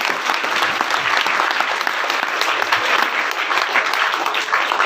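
An audience at an official tree-planting event claps steadily and loudly, dense applause running throughout without pause.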